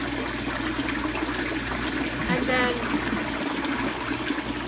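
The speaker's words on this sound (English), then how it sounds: "a continuous flow of water is pumped from the fish tank through the bed and back again" Water pumped from a fish tank flows continuously through an aquaponics grow bed and back again, making a steady, close trickling rush. A voice speaks briefly over it.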